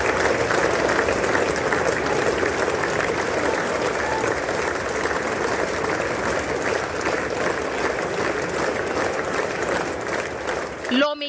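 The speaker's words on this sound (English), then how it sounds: "Lawmakers stood up and applauded as he walked up to the podium to deliver his address" Lawmakers in the US Congress give the Prime Minister a standing ovation, a dense, sustained roar of clapping that fills the chamber and fades at the very end into a brief voice.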